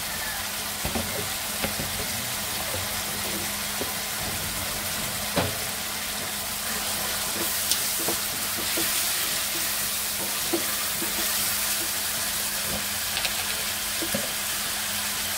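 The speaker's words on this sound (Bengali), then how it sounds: "এই যে মশলাটা কষিয়ে নিই এখন।" Spices and ginger-garlic paste frying for samosa filling produce a constant low sizzle, broken by scattered scrapes and taps of a spoon stirring the pan, close by with no talking.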